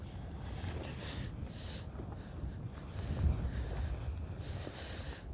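Steady wind rushing over the mic on a boat deck at Lake Guntersville, a continuous low buffeting roar with a brief gust swell midway, no voices.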